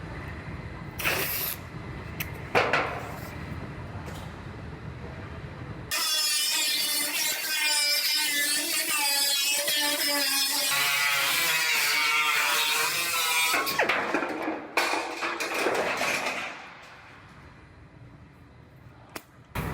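A power saw cuts new flooring, a loud, harsh buzzing whine for about ten seconds after a few scattered knocks and handling sounds, then it winds down and fades, close by with no talking.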